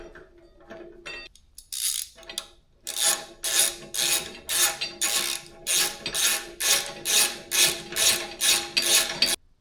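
A ratchet tightens the bottom brake caliper bolt on a 2003 Harley-Davidson Softail during a brake pad change, giving a close, loud, steady run of about a dozen rhythmic ratcheting strokes after a few quieter clicks.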